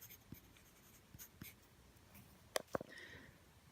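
Pen scratching on paper while jotting down World Cup match predictions, quiet and close, with a few soft strokes followed by two sharper taps near the end in a hushed room.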